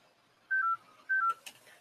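A telephone rings in two short electronic two-tone bursts, clear and fairly close, separated by a brief gap, with only faint background noise and no speech.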